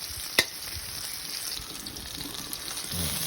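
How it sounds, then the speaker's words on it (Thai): Chili and garlic frying in oil in a pan, a steady close sizzle with a sharp clink near the start and stirring scrapes throughout, with no talk. "เอาพริกกับกระเทียมนี่ เดี๋ยวก็น้ำมันให้ได้ที่ให้ทางนิดนึงเลย"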